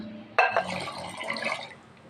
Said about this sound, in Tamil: இப்போ தேவைக்கேற்ப தண்ணி ஊற்றிருக்கு